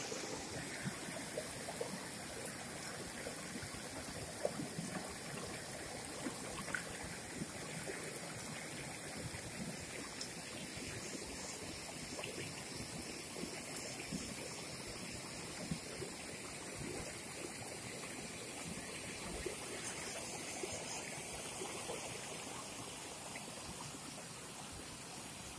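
A small, clear mountain stream in Văn Yên's cinnamon-growing hills flows with a soft, steady rushing and trickling, faint and continuous throughout, with no voices.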